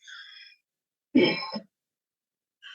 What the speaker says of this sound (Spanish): me disculpo por la tos